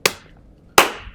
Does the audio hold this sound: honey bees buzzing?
no